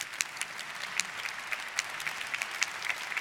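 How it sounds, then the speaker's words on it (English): Audience applause at a public day of a space conference, a steady patter of many hands, fairly soft and somewhat distant, with no talking over it. "please, an applause"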